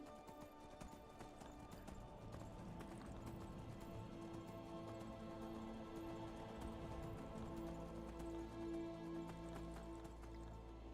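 Horse hooves clip-clop in a steady rhythm inside the video game Skyrim, a constant patter layered over ambient game music that continues for the whole stretch, with no speech.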